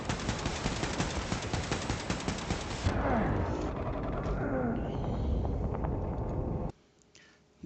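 Rapid automatic gunfire in the shooter game Wolfenstein II: The New Colossus: dense, loud bursts of shots for about three seconds, then continued rumbling combat noise that cuts off sharply near the end.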